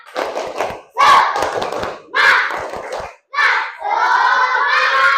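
An Indonesian school class chants and claps the rhythmic 'tepuk semangat' routine in bursts of loud group voices and sharp clap patterns, close and energetic, ending in a sustained shouted phrase.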